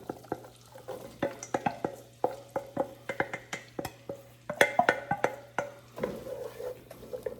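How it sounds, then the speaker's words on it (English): Vegetables cooking in melted butter for clam chowder, with a soft sizzle under a rhythmic series of spoon scrapes and clicks against the pot, close and fairly quiet, the strokes coming roughly twice a second. "And just let them cook in the butter fat."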